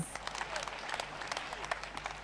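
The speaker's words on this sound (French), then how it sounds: "Applaudissez pour Jésus-Christ." A church congregation applauds for Jesus after a healing at a T B Joshua service, a steady wash of many hands clapping at mid distance with scattered louder claps and faint voices underneath.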